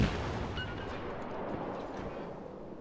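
The Japanese cruiser Kuma's naval guns fire in World of Warships. One heavy booming blast at the start trails into a long, steady, roaring rumble that slowly fades.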